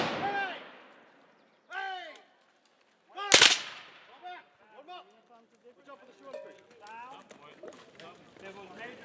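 A rifle volley fired by a platoon in a Confederate Civil War–era drill cracks out as one loud, sharp blast in the middle, with shouted commands and talk before and after it.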